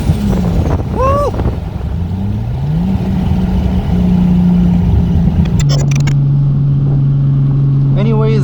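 An 800whp 2JZ-engined Nissan Cefiro drives Thailand's mountain roads, its engine droning loudly from inside the cabin, rising and falling in pitch through gear changes, with brief whistles and a hiss near the end.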